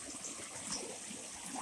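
Mountain spring water flows steadily at a water source outdoors, a soft, continuous trickling and rushing stream heard alone at low level.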